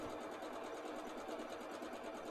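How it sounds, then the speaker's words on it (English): Sewing machine chain-piecing quilt squares, a steady close whir of rapid stitching running without a break and no talk over it. "I'm going to do a little chain sewing here."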